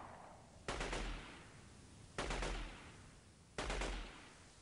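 Gunfire in the video game Delta Force 2: three separate short bursts of rapid shots, evenly spaced, each ringing out and fading into a lingering echo, fairly distant and with no talking.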